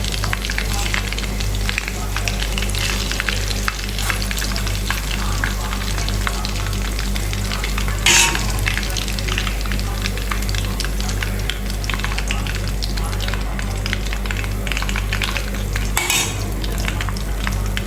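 Prawns for a KFC-style dish fry in hot oil with a loud, dense, continuous sizzle, broken by constant stirring scrapes and occasional louder utensil knocks against the pan.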